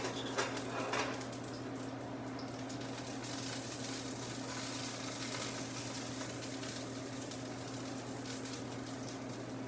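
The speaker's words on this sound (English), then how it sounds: "I think my frying pan's hot enough here, so I'll start laying these in here" Food frying in a hot frying pan outdoors, a steady soft sizzle with faint crackles and a brief clatter at the start, continuing evenly and fairly quiet throughout.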